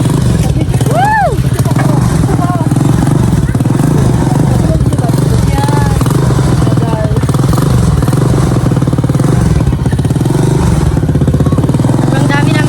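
A small motorcycle crowded with several riders travels through a rural province setting, its mid-pitched engine running steadily and fairly loud throughout, with wind rumble and people talking and cheering over it.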